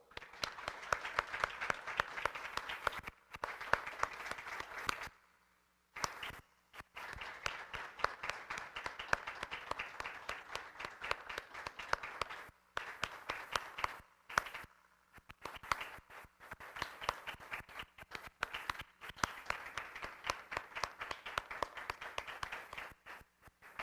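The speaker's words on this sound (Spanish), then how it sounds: "comienza en este momento el minuto de aplauso" A standing audience at a June 2025 forum in Venezuela gives a minute of applause in memory of a man named Justino. Steady, dense clapping fills the room, broken by a few brief pauses before it resumes.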